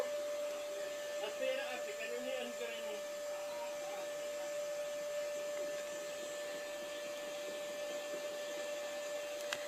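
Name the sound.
vacuum cleaner running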